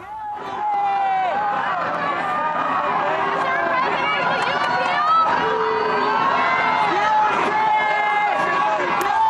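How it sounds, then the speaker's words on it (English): A large outdoor crowd in New York roars with mixed cheers and boos as Donald Trump arrives at his residence after a guilty verdict, a dense, continuous wall of shouting and whistles. "A mix of cheers and boos there as Donald Trump goes to his residence in New York"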